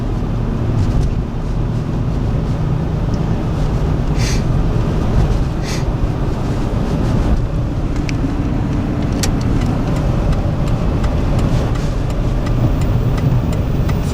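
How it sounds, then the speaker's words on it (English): Cabin of a 2000 Ford Expedition on the road in cold weather, a steady low engine and road rumble that fills the interior, with a few faint clicks and rattles scattered through the ride. "Riding in our truck here, we got our 2000 Ford Expedition."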